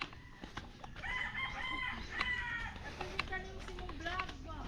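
A rooster crows several times at a moderate distance while people talk nearby, with clucking and background murmur.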